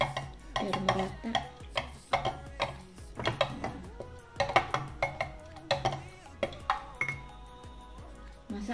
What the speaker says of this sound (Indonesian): aku aduk sama centong aja ya